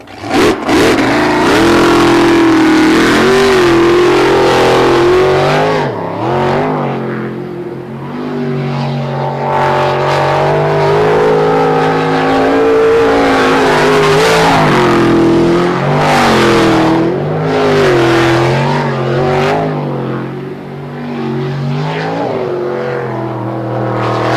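A powerful sprint boat racing engine roars and revs continuously at a professional race in Lewiston, Idaho, loud and close, rising and falling in pitch with no break throughout.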